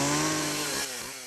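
A chainsaw cuts an H into an apple, its engine whining loud and steady, then dropping in pitch as the cut finishes.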